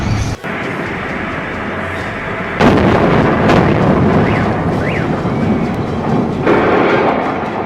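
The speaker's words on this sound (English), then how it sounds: "a devastating gas explosion occurred at a 5-story residential building in Novosibirsk" Aftermath of a gas explosion at a five-story residential building in Novosibirsk: loud, sustained rumbling roar with crackling bursts, growing heavier partway through and holding steady to the end.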